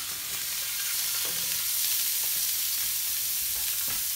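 Peppers fry in vegetable oil on a griddle over medium heat, giving a steady, close, bright sizzle with occasional soft stirring scrapes and no talking.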